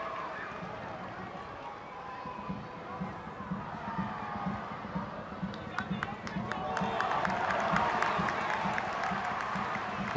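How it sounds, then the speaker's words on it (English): Stadium crowd at an under-21 international football match between the Czech Republic and England, a broad roar of shouting that swells and grows louder in the latter half, with scattered claps and a commentator talking over it. "The crowd say shoot."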